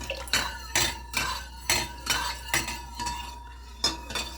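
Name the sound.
stirring blended mixture into chicken broth in a pot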